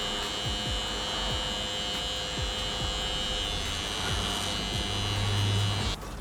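An electric hair trimmer buzzes steadily and close up while tidying a hairline, a constant motor drone with slight shifts in pitch as it moves.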